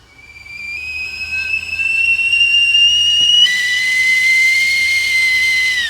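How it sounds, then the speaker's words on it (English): A whistling kettle boils on the stove, its shrill whistle rising out of a steam hiss and then holding a loud, steady, slightly wavering tone that shifts pitch partway through. "I'm going to get the kettle on"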